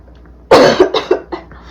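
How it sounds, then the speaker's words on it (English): A person coughs hard several times in quick succession, a loud first burst followed by three or four shorter, weaker coughs, close and with no talking. "I apologize for my coughing."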